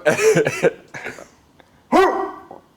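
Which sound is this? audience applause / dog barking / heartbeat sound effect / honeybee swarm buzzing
dog barking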